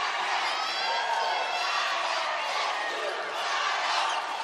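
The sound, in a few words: basketball crowd cheering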